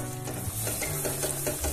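Coconut chocolate barfi mixture stirred in a pan, a thick continuous sizzle with soft scraping strokes of the spoon, close and steady with no talk.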